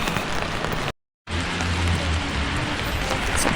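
Heavy rain falls on a cold Stockholm street, a steady dense hiss of drops close by, broken by one short silent gap before the downpour resumes.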